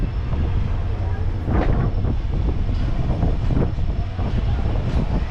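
Superfast express train on the Tambaram to Senkottai route rolling into platform 1 at Tenkasi junction, a continuous loud rumble with wind-like noise and scattered clanks throughout.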